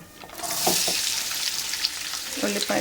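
Onions drop into hot oil with mustard seeds, giving a bright, close sizzle with a few stirring scrapes, loud and steady over a few seconds without talk.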